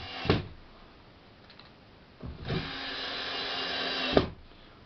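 A power screwdriver drives screws into a furniture board fixed onto a table, with two short bursts of motor whine and a longer whirring run, separated by sharp clicks and quiet pauses.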